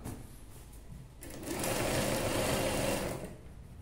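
An electric sewing machine runs a second line of stitching along a boat neck dress with thread piping, its motor whirring steadily and swelling louder through the middle before easing off, with no talk.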